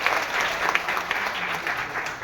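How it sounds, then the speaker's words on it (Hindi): A crowd at a DXN camp in Gaya, Bihar, breaks into loud, sustained applause, a thick continuous patter of many hands clapping together. "जोरदार तालियां सभी के लिए"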